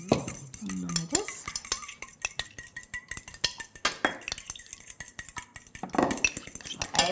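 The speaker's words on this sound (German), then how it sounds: "Schon Ei verquirlt." An egg whisked briskly in a bowl in a home kitchen, rapid metallic clinking and stirring strokes repeating unevenly, close and clear, with no talk over it.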